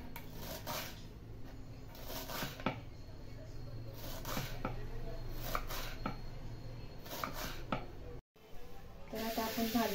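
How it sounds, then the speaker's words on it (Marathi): Chopping of chai, a wild leafy vegetable, with a knife, heard as a string of close, irregular crisp cuts and light scraping on a board, with a brief silent gap near the end. "तर आपण आता चिरून घेऊ आधी."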